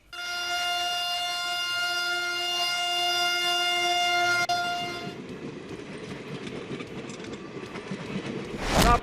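A train on railway tracks blares a long, steady horn for about five seconds, then gives way to the rumbling clatter of wagons rolling past, which swells louder toward the end.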